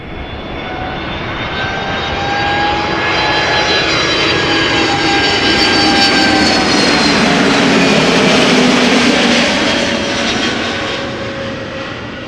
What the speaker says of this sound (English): A321neo Pegasus arriving from Istanbul.